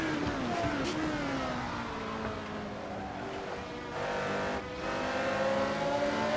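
A retro Formula One race car engine in Assetto Corsa at Monza revs high and holds a sustained, rising whine through the gears, with other cars faintly audible around it.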